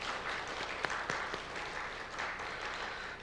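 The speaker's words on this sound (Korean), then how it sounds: "또 옆에 계신 분들에게 박수로 격려해 주시기 바랍니다." Church congregation at a dawn worship service applauding, a soft, steady wash of clapping with a few sharper claps standing out, heard from some distance.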